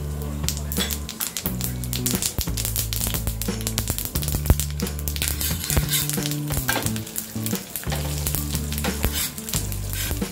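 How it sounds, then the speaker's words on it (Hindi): Chana dal and white sesame seeds sizzle and crackle in hot oil, a dense continuous frying hiss with quick popping, stirring and a background hum throughout. "तेल गरम हो गया अब हम इसमें डालेंगे दो टेबल स्पून चना दाल दो टीस्पून सफ़ेद तिल ससमे सीड्स"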